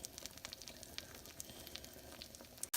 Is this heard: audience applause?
no